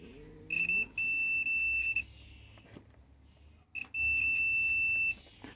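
Two sustained electronic beeps from a continuity tester checking the earth wire of an appliance plug, each lasting over a second with a gap between, shrill and clear over a quiet room.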